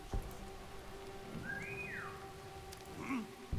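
A short whistled signal in the stealth video game War Mongrels, a rising then falling tone lasting under a second, set against a quiet game ambience of rain and a low steady hum.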